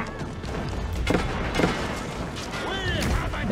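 French cannons in Age of Empires IV fire in repeated heavy booms and thuds amid battle clatter, while a player talks excitedly over the gunfire.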